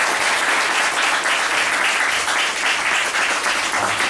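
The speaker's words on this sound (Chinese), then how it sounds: "我们再热烈掌声谢谢他" Warm, sustained applause from a seated audience fills the room, a thick continuous patter of many hands clapping at steady loudness with no voices on top.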